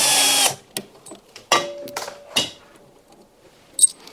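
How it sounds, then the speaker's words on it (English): Power drill backing out screws on an LG ThinQ washing machine, several short whirring bursts with pauses between them, plus a brief high whine near the end. "First we need to undo these 2 screws that hold the cabling in place."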